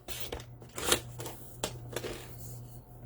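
Black cardstock is cut to four inches for a Halloween craft project, giving several crisp, papery swishes and slices up close in a quiet room.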